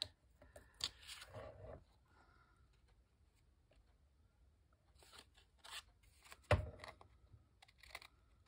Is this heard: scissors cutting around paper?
yes